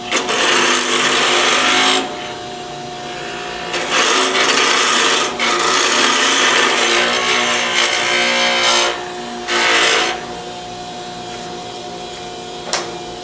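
Skew chisel cutting a wooden spindle spinning on a lathe, loud broadband shaving bursts of a few seconds each separated by quieter gaps with the lathe's steady hum underneath, no voices.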